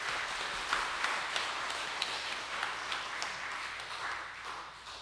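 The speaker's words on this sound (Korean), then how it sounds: "옆에 좌우의 교사 선생님들에게 박수하면서 격려를 한번 해줬습니다" A church congregation at a teachers' dedication service claps to encourage the teachers beside them, a soft, steady patter of applause heard at a distance in a large room.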